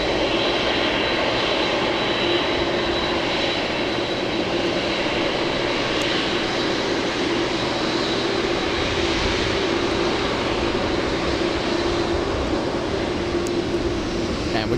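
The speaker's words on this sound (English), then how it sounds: "Listen to these engines." Cathay Pacific Boeing 747 jet engines roar loud and steady at Los Angeles International Airport, a broad continuous rumble and whine holding for the whole stretch with no pause.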